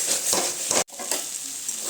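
Garlic sizzling in a hot pan while being stirred, with scraping strokes and a brief sharp break in the sound partway through.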